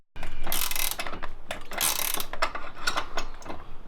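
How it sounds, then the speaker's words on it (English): A ratchet wrench works loose the exhaust manifold on a Honda EG with a K-series swap, giving a close, loud run of mechanical clicking bursts with no talk. "Just taking my manifold off."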